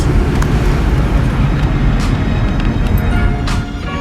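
A car driven on the road to check that its transmission shifts, a steady loud rumble of engine and road noise throughout with no talk.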